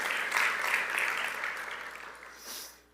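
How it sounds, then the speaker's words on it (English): Audience applause at a graduation ceremony, a steady wash of clapping from many hands that swells briefly near the end and then fades out. "Round of applause to the IAM."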